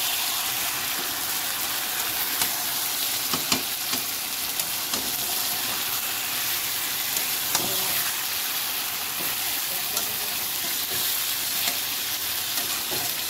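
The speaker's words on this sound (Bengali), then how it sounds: "এবার আমি মাংসটাকে খুলে দেব, একটু নেড়ে ছেড়ে দেব যাতে তলাটা না ধরে যায়" Chicken kosa stirred in a pan after cooking under a lid, a loud, steady sizzle and hiss of frying with occasional faint scrapes of the spoon.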